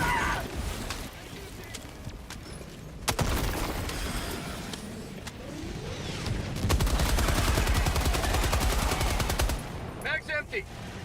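Rapid automatic gunfire in the video game Helldivers 2 fires in a loud sustained burst until the magazine runs dry, amid explosions and game noise, with shouted voices near the end.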